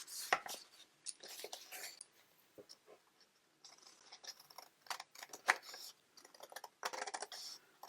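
Scissors snipping off an extra paper piece while making a Mariposa mini album, a run of short crisp close cuts and small rustles with brief pauses between, no talk.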